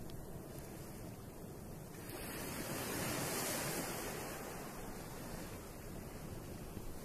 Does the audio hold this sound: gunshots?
no